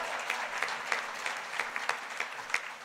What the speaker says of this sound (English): It's all right, you can clap.